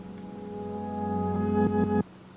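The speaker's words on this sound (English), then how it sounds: "I turned on a gross beat that makes it repeat towards the end of it 3 times" An ambient pad sustains and swells, then a Gross Beat glitch effect chops the tail into three quick repeats before it cuts off abruptly.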